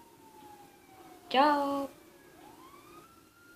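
A short burst of police siren in GTA 5, rising and falling in a quick harmonic wail for about half a second, loud against a quiet game background with a faint tone before and after; a voice is briefly heard.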